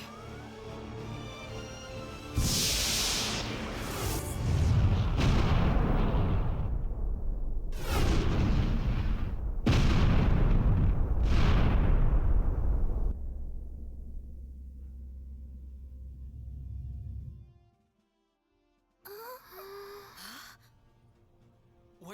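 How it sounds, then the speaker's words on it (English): Repeated heavy blasts of incoming fire from an unknown vessel strike a ship in Star Ocean 4: The Last Hope, several loud booming impacts with rumbling tails, then fading to quiet. "Incoming fire from the unknown vessel."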